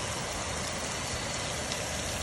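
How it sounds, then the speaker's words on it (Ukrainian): Rain falling outdoors in the Lviv region in summer, a dense, even hiss of drops holding steady and fairly loud from start to finish, with no voices. "Ось такий дощик у нас."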